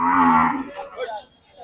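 A Sahiwal bull calf at a cattle market in Jhenaidah gives one loud, close moo lasting over half a second, followed by quieter market murmur and faint background sounds.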